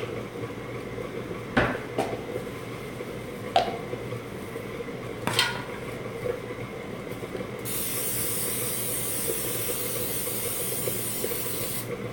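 A pan being greased with cooking spray while making edible bites: a few short spray bursts followed by a long, steady close hiss, with faint kitchen clatter and no talking.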